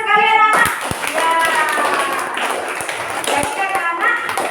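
A classroom of children claps their hands together in a sustained burst of rapid, overlapping claps, with a teacher's voice and kids' voices running over the applause.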